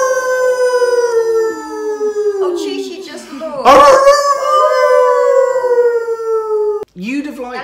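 A person imitates a wolf howl, a long, loud, wavering vocal howl sliding down in pitch, joined by other voices partway through and followed by a brief second howl at the end.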